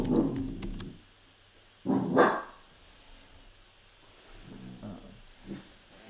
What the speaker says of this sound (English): The dog is hearing another dog outside.